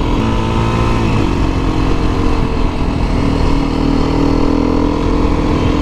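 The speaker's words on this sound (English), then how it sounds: "you gotta rev match your downshifts on this bike if you wanna carry your speed" A motorcycle engine revs while riding, rev-matching downshifts to carry speed. A loud, continuous engine drone with shifting pitch and a strong low rumble fills the whole stretch, and no one talks.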